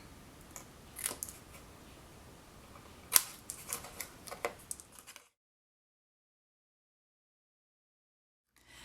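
Scissors snip paper at an angle for a handmade card, a handful of crisp cuts and paper rustles close by for about five seconds, then silence.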